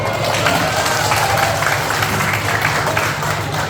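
Audience applause following a student drama performance titled Anak Rantau at a university arts course event, a steady, dense wash of clapping filling the room for several seconds without pause.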